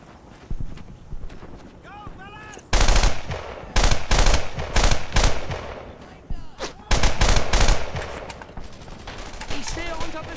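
Gunfire rattles in a World War II shooter, Brothers in Arms: Earned in Blood, with loud bursts of automatic fire clustered through the middle and end, mixed with shouted German voices and battle noise.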